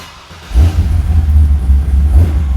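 A V8-swapped, budget-built Jeep Wrangler burnout machine with its exhaust cutouts still closed: a deep engine rumble surges up loud and close after a quiet half-second, then holds a heavy, fluttering rev without letting up.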